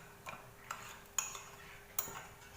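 A spoon stirring thick semolina porridge, giving a few soft clinks and scrapes against the pot at uneven intervals, faint and close in a quiet room.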